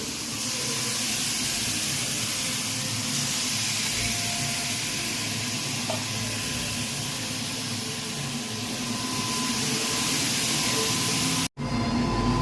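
Marinated chicken for chicken korma hits hot oil in a kadai, giving a loud, steady, close sizzle and hiss that runs unbroken, with a brief cut just before the end and no voices.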